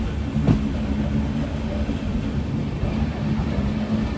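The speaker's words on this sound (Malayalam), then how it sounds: "ട്രെയിൻ മുകളിലൂടെയാണ് പോകുന്നത്" A local train runs on an elevated track overhead at a small Kolkata station, a steady loud rumble and rattle filling the whole stretch with no speech.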